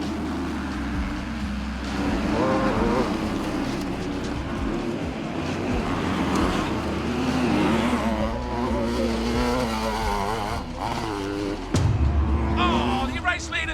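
Several motocross bike engines roar and rev together at a race start at a loud, busy pitch, with a commentator talking over the din throughout.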